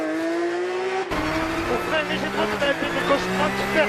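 At the Rallye d'Antibes 2013, a rally car on a stage drives past with its engine sustained at high revs, shifting pitch through the gears. The car is loud and close, and a commentator can be heard talking over it.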